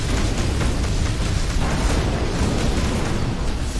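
Weapons fire in bursts in the space action game Between the Stars, a dense, loud, continuous roar of rumbling blasts with no gaps between shots.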